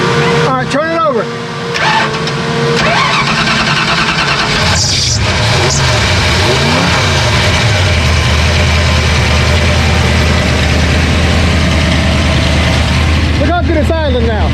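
A 302 HO small-block Ford V8 idles steadily and close by after being cranked back up, a low continuous rumble running throughout while people talk loudly over it.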